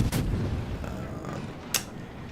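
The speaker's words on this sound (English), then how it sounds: "So I open fire in the open as I get ready to dip behind these islands" Minotaur cruiser guns in a naval video game fire in the open: two sharp, loud booms roughly a second and a half apart, each with a rumbling low tail over continuous background noise.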